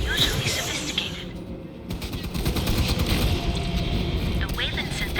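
Dense, continuous bursts of gunfire rattle throughout amid a noisy soundscape in the video game Aliens: Fireteam Elite, with rapid repeated shots layered over a rumbling backdrop.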